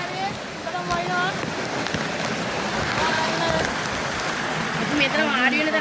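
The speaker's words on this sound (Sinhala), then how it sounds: "ඔන්නේ ආයෙ වැස්ස පටන් ගත්තා" Rain falls steadily on a trail beside a forest stream, a constant close hiss of drops on surfaces with running water beneath, while people talk over it.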